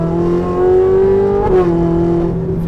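Modified Ferrari 458 engine revving hard with a steady, loud high-pitched drone heard from outside, climbing and then easing back, with a buzzing exhaust note like an angry hornet.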